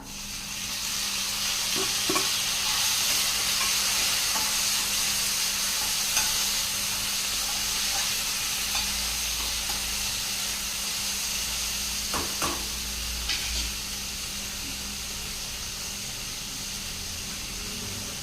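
Two medium tomatoes, cut up, sautéing in a pan with soya chunks, giving a steady, loud sizzle and steamy hiss with a couple of brief stirring clinks.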